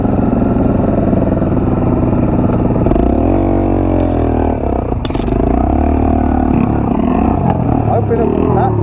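Yamaha XTZ 125 motorcycle on a dirt trail, its engine revving and labouring close by with scraping and clattering, under people talking.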